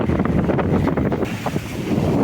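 Strong wind gusts buffet the microphone on an island shore as a typhoon approaches, a dense continuous roar with low rumbling and possible surf beneath, loud and steady with no talk.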